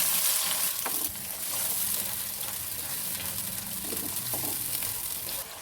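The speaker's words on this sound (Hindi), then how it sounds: "ये पिसा हुआ पिसी हुई प्याज डालेंगे पहले हम, और इसे अच्छी तरह ब्राउन होने तक फ्राई करेंगे" Ground onion paste fries in mustard oil in a karahi, giving a steady soft sizzle with occasional stirring scrapes throughout.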